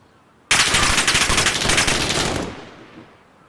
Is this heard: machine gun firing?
yes